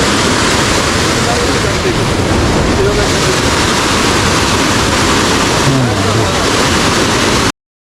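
A loud, steady roar of rushing water from Shoilopropat waterfall beside the Chimbuk hill road in Bandarban on a rainy day, filling the scene without a break.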